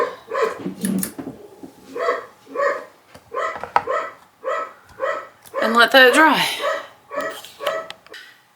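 Dogs bark repeatedly in a steady rhythm close by, with a higher yelping burst midway and a person speaking briefly at the start.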